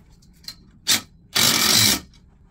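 A hammer drill drives an anchor bolt into a basement wall: a few light clicks, a short whirring burst, then a longer loud grinding run of about half a second that stops abruptly, close and alone.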